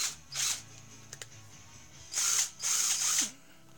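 A Harbor Freight 12V lithium-ion 1/4-inch hex impact driver runs in about three short, close bursts of high whirring, with brief pauses and a faint click between them.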